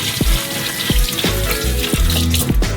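Tap water runs steadily into a kitchen sink to soak butter paper, a loud continuous splash with a few clunks and knocks of handling through it.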